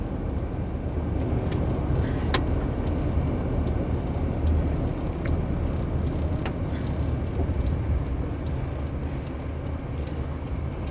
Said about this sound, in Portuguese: E ali vem carro.